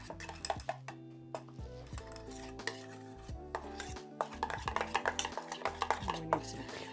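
A spoon stirs food in a pot for beach-style mahi-mahi tacos, giving a faint run of close clinks and scrapes against the metal that quicken into a steady rhythm toward the end.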